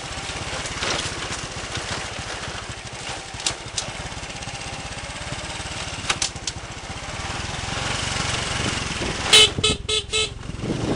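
Motorcycle engine running steadily on a rough track in Indonesia as the road ends and jungle begins, a continuous low drone with a few sharp horn-like blips near the end.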